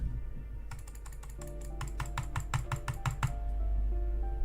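Rapid clicks in a quick irregular run while playing Disco Elysium, sharp and close, over a steady low hum and some faint background music.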